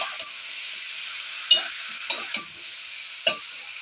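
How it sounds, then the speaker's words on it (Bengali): A steady sizzle hisses throughout, broken by three or four scraping clanks as food frying in a wok is stirred and turned. "এখন লাড়িয়ে নেব ভালো করে ধরে নয়তো কড়াইটা উল্টে পড়ে যাবে"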